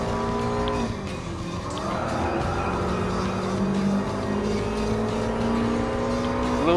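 A Subaru Impreza 22B-STi races in Gran Turismo Sport, its engine droning steadily with shifting harmonic pitch as it accelerates and brakes, tires squealing and skidding, other race cars audible nearby throughout.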